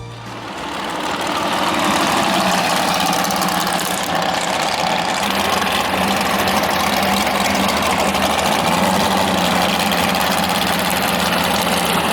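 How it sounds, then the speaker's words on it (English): A drag racing roadster with a 498 cubic inch big block Chevy engine of about 700 horsepower idles loudly and close by, a steady, lumpy rumble that holds for the whole stretch at a drag strip in Las Vegas. "It has a 498 cubic inch big block Chevy, produces about 700 horsepower"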